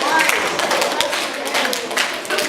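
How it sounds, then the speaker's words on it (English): Hands clapping in a school classroom, with quick, sharp claps repeated several times at close range over a steady murmur of voices. "Please show how to clap your hands."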